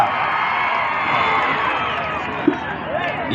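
A crowd at a girls' kho-kho match sends up a dense, continuous wash of cheering and shouting voices, loud and sustained, with an announcer's voice mixed in.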